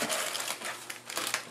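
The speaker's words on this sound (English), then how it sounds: "We'll have to put that in plastic bag." Plastic bag crinkling while a model kit flag is packed away, a run of close, dry rustles and crackles with brief pauses, fairly quiet and without talk.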